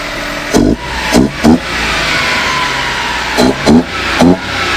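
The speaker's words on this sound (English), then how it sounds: "Motor sounds good though." A Suzuki Carry mini truck engine idles steadily up close, with several short louder bursts breaking the steady drone.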